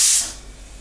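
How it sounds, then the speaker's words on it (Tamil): Pressure cooker on the stove, cooking cabbage kootu, lets off a loud burst of steam that fades into a softer lingering hiss. "இப்போ இந்த 1 விசில் வந்துருச்சு"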